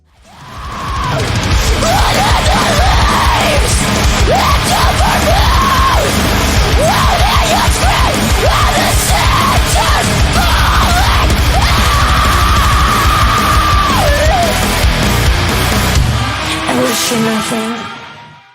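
A death metal song plays loud and dense, a heavy breakdown with driving drums and guitars under harsh, unhinged screamed vocals that carry on for most of the passage.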